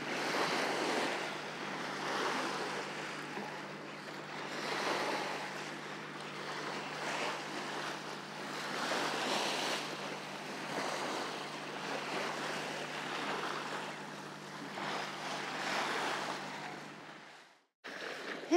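Sea water splashing and rushing past the hull of a sailing boat under way in the Bristol Channel, a steady close wash of surf-like spray with wind noise, continuous with no talk, ending abruptly.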